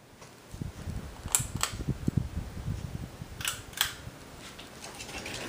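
A 52-inch Hampton Bay Huntington III ceiling fan winds down after being switched off, giving a soft low mechanical whir with scattered faint clicks and ticks from the motor as it slows.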